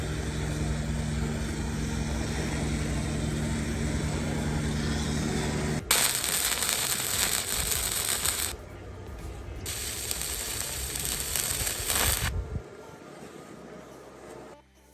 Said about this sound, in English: Now it's ready to go, ready to start, and then I can do some welds.